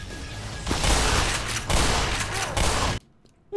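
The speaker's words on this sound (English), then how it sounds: "I cannot believe the dude had the nerve to use the grenade launcher attachment on his gun." An enemy fires the grenade launcher attachment on his gun in Black Mesa: a close, loud rattle of gunfire and booming bursts over several seconds, cutting to near silence before a final sharp crack.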